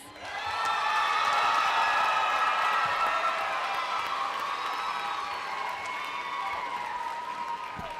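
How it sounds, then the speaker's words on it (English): A convocation audience cheers and applauds for HR students, sustained clapping with whoops and crowd voices filling the hall for several seconds, easing slightly toward the end. "Let's give a big cheer to the HR students."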